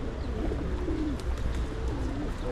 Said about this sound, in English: so this is where people come to feed the birds.